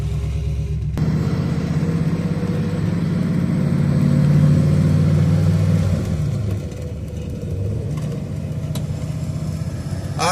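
A 1967 Chevy Camaro, a former drag car, rumbles steadily from inside the cabin during a ride, its engine swelling into a louder revving stretch midway before easing back to a lower, constant drone.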